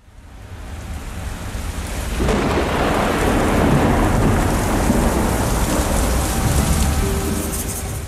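Steady rain pours down, joined by low rumbling thunder; the downpour thickens after a couple of seconds and stays loud and continuous.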